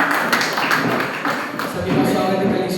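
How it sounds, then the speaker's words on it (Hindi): A church congregation claps together during worship, a dense, steady patter of many hands filling the room with little pause, fairly loud and close. "अद्भुत आराधना में हम ताली बजा सकते हैं एक बार"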